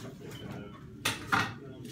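A knife cuts the bitter stem out of Swiss chard on a board, with two sharp crisp slicing strokes close by, the second slightly louder, over quiet kitchen background.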